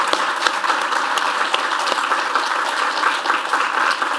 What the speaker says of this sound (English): Can we give Dr. Wade and Emmeline a round of applause and lots of love?